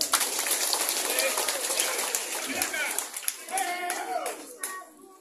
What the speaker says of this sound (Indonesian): tepuk tangan untuk Sumba